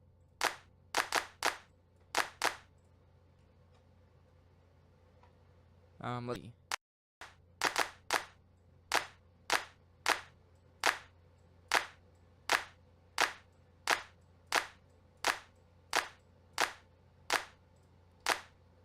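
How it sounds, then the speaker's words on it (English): A sampled clap for a homemade drum kit repeats as sharp, evenly spaced hits, first in a few quick pairs, then in a steady rhythm after a short pause with a brief spoken aside. "So let's move on to our clap."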